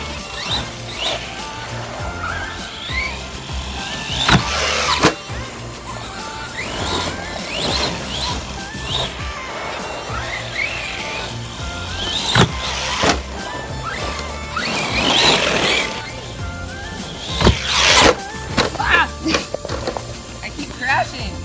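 Arrma Big Rock RC monster truck running at full speed on its first outing, its electric motor whining in rising and falling surges with bumps and clattering crashes, while a person talks and exclaims excitedly over it.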